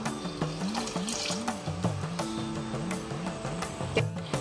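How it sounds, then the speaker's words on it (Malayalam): Coconut milk pours into boiling jaggery for a chana dal payasam, making a steady, close, gurgling stream of liquid with a wavering, bubbly tone. "ഇനി നമുക്ക് എടുത്തു വെച്ചിരിക്കുന്ന ഈ തേങ്ങാപ്പാല് ഒഴിച്ചു"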